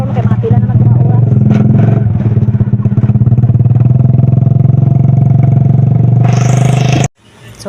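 A repaired motorcycle engine idles loudly and close for several seconds with a steady, rapid pulsing putter, then a brief burst of rising noise before it cuts off abruptly near the end.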